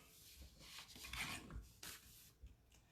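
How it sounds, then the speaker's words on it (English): A small paper trimmer slices through card stock in a few dry, rasping strokes, close and fairly quiet, with short scraping bursts and pauses between them and no talking. "I'm just going to use the little trimmer that we got during celebration and get this trimmed up"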